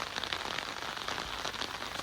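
Heavy rain pours down steadily on a hobby farm, a dense, even hiss of drops without pause and no voices.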